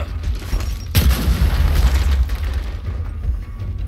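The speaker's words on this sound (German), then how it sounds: "Scharfe Granate!" A live grenade in Gears of War 4 detonates with a sudden heavy boom about a second in, followed by a deep rumbling tail that slowly fades amid lingering in-game noise.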